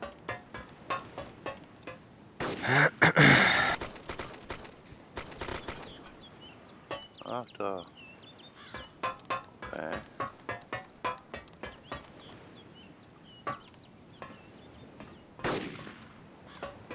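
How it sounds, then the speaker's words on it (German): DMR rifle shots in the survival video game DayZ Epoch ring out as irregular sharp cracks, some single and some in quick bursts, with a louder rushing blast early on and quieter reports spread across the stretch. "DMR-Schüsse."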